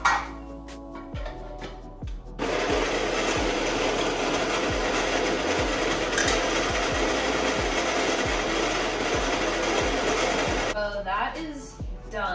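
A coffee grinder grinds beans for espresso for an iced latte, a loud continuous whirring grind of about eight seconds, with quieter handling noises just before and after.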